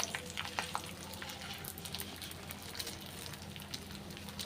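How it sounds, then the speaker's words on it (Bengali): Rice fries in ghee with whole garam masala spices and bay leaves, a soft continuous sizzle broken by scraping stirs and light crackles, close and fairly quiet. "চালটা দিয়ে এবার আমি এটাকে নাড়াচাড়া করতে থাকবো। চালটা কিন্তু আমি অনেকক্ষণ ধরেই ভাজবো"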